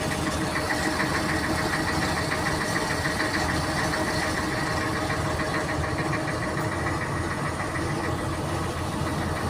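Boat engine running steadily aboard a vessel on the water in Alexandria in winter, a constant rumbling drone with a rough, knocking texture and no pauses.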